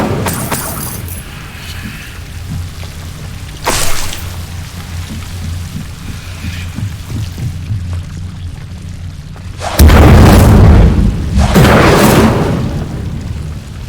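An Incendio fire spell cast in the Hogwarts Legacy video game flares in short, loud whooshing bursts: one near the start of a low, rumbling ambience, then two stronger blasts close together toward the end.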